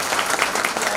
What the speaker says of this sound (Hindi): अब आप लोग एक बार जोरदार ताली बजाइए